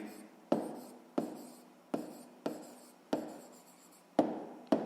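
Pen or chalk writing by hand during a sixth-grade maths lesson, heard as a series of about seven short scratchy strokes in a steady stop-start rhythm, close and fairly quiet, with no talking.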